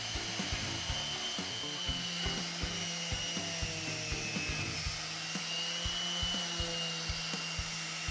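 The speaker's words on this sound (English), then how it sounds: "Then we move on to the fine sanding with the orbital sander." An orbital sander whirs steadily over a pine desk during fine sanding, a continuous close buzzing drone with faint rhythmic rubbing pulses as the pad passes over the wood.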